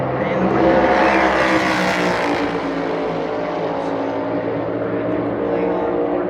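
A NASCAR Cup car on a qualifying lap at Phoenix Raceway during the 2024 championship qualifying, entering turn 3. Its engine gives a loud, sustained, steady roar that barely changes level across the whole stretch.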